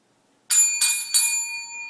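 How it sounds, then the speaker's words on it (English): A small bell rung to celebrate a sale, three quick bright rings in a row, close and loud, each ring left to fade out. "Ring the bell."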